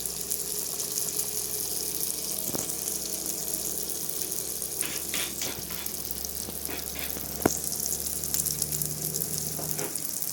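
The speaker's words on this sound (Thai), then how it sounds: "ใช้น้ำมันร้อนนะครับ เดือดเดือดเลย ถ้าน้ำมันไม่เดือดเขาก็จะจมไปอยู่ก้นกระทะนะครับ" Dough sticks (pa thong ko) fry in boiling hot oil in a pan, giving a faint, steady sizzle with occasional small pops and crackles and no voices.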